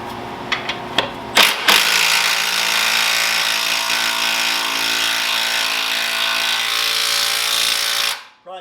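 A power tool whirs continuously and loudly for several seconds on the rear shock bolt of a 2013–2020 Ford Fusion, after a few sharp metallic clicks, then cuts off abruptly.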